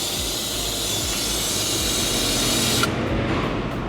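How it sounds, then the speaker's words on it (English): An air-powered coolant vacuum tool pulls coolant through a hose on a 6.7 L Cummins during EGR cooler replacement, giving a loud, steady rushing hiss that cuts off sharply near the end, leaving quieter background. "So you just open the valve for a second and it sucks the coolant through."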